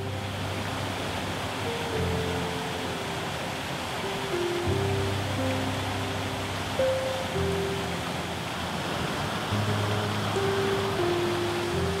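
Steady rushing water roars continuously from the staircase-like Devil's Staircase waterfall, with soft background music playing over it.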